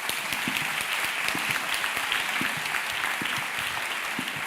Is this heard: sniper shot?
no